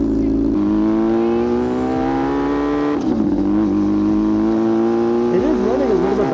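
A loud Yamaha R6 sport bike, with a low-idle sputter issue, drones close up through its exhaust while riding, its engine note holding steady then shifting pitch around the middle and rising again toward the end, with no break in the sound.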